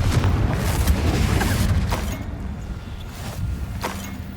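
Confringo blasting spell exploding in the video game Hogwarts Legacy, a loud, deep booming blast that rumbles and slowly fades over a few seconds, with faint crackles and debris sounds trailing after.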